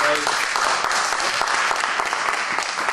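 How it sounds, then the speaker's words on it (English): Audience applause during a public debate in Lafayette, California, a dense burst of clapping from a crowd, loud and continuous for a few seconds with a brief voice at the start. "perhaps we can save our applause for the end"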